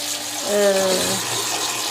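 Water pouring and splashing while chutney ingredients are washed in a kitchen, a short close burst of running water with a brief tonal gurgle as a vessel fills.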